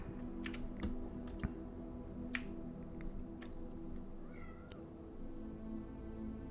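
A pet female cat gives a brief, soft meow amid light, scattered keyboard-like clicks in a quiet room.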